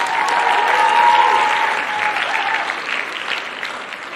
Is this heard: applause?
yes